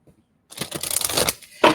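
A Mermaid tarot card deck is shuffled in a brief burst of dense, papery riffling near the mic, with a short sharp snap at the end and no talking.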